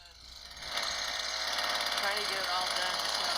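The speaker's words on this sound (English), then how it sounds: "It's her hedge cutter." A hedge cutter buzzes while cutting trees, played back from a recording as a harsh, steady, rattling drone that swells up and then holds, thin and slightly distant.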